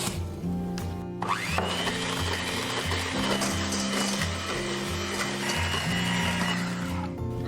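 An electric mixer whips egg whites with sugar, giving a loud, steady whir that runs unbroken from start to finish.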